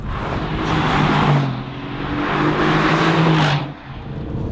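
A 2016 Mercedes-AMG GT, a powerful rear-wheel-drive sports car, accelerates on a cold, wet track. The loud engine note rises in two surges before easing off, with no talking.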